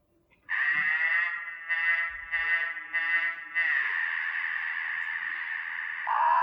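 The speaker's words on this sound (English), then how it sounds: "this is the sound of a cicada with" A synthetic buzzing drone modelling the song of the cicada Hyalessa maculaticollis, steady and nasal with a few pulsing swells, then a sustained tone that shifts pitch near the end.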